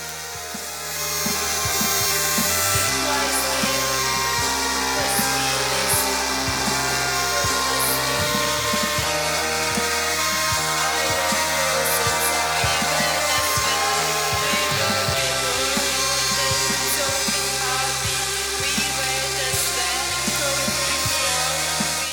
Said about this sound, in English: Here I'm using a Japanese rasp to get the rough shape